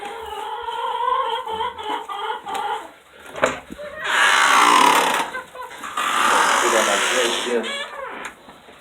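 Hens in a backyard flock cluck and call in bursts, loudest midway and again toward the end, while someone talks over them close by.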